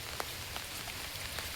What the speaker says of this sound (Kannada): ಇವತ್ತು ಮಳೆ ಬಿಡಲೇ ಇಲ್ಲ